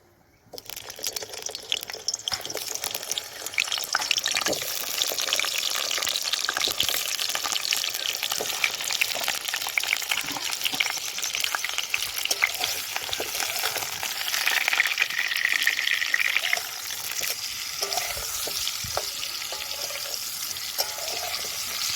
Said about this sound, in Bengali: কড়ার মধ্যে তেল দিয়ে দেব দিয়ে এবার আলুগুলো দিয়ে দেবো